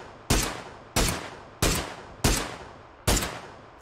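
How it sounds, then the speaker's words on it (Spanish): Gunfire in the battle royale game PUBG on the Erangel map, five sharp single shots spaced roughly evenly, each a loud crack with a decaying tail, heard alone without talk. "Le di dos tiros a uno."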